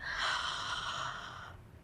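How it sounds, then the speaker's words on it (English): A big, breathy yawn during a Pilates workout stretch, drawn out for about a second and a half close to the microphone, then trailing off into quiet. "Give yourself a big yawn. Perhaps do a proper yawn."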